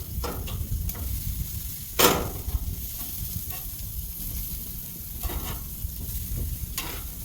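Chicken pieces sizzle on a BBQ grill with avocado oil as they are turned, producing a constant close crackle broken by a few sharp clicks and taps.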